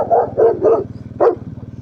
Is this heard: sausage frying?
no